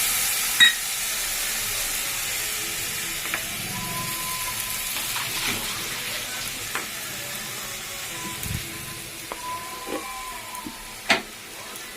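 Soaked cumin seeds drop into a pan of frying tomatoes and green chillies, a steady close sizzle with faint stirring clicks and occasional utensil taps.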